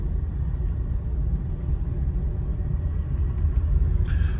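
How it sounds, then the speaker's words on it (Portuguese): A V8 car engine parked at the curb on a street gives off a steady, deep low rumble throughout, with broadband traffic noise rising slightly near the end. "posso adiantar que nós estamos num V8"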